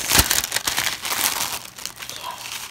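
Tissue paper crinkles and rustles continuously up close as a gift box is unwrapped, with dense irregular crackling and no talk.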